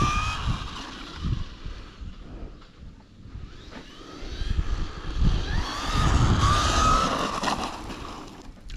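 Small MJX Hyper Go 14210 RC car running a 2S battery, braking on dirt with an electric motor whine and scuffing of tires over loose ground, fluctuating and nearby, with no talking.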